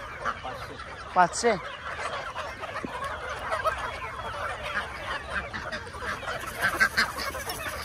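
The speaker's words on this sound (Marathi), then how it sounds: "बदक बघ बदक" Ducks and geese on a village poultry farm honk and quack in short, scattered calls, one louder goose honk standing out early over a busy flock murmur, with a brief spoken word in the background.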